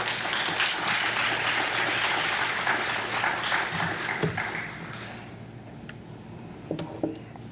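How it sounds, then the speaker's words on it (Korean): Warm applause fills a Korean church hall at a Wednesday service as the congregation welcomes the pastor. The clapping stays even for several seconds, then thins out and fades, leaving a few scattered claps and light room noise. "이제 심수영 목사님 나오실 때 여러분 큰 박수로 환영해 주시기 바랍니다."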